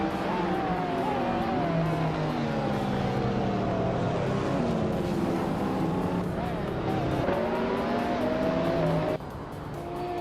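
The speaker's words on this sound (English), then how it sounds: "Cloud Surface 69 is climbing steadily, now in 11th after passing 3 cars" Race cars in a racing video game roar past one another as they overtake, engines whining and shifting pitch continuously at high volume with tire noise, while a voice commentates over the action.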